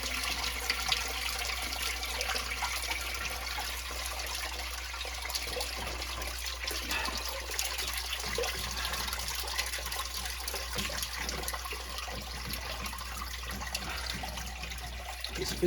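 Water rushes steadily and noisily into a sump pump pit in a home basement, a constant hissing, trickling flow with no voices.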